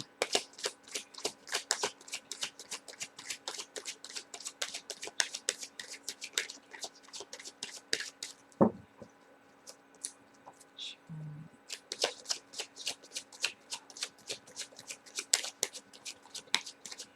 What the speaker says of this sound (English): So we're going to go ahead and shuffle the cards here.